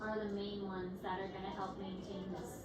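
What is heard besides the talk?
No distinct noise like a dog, phone or traffic.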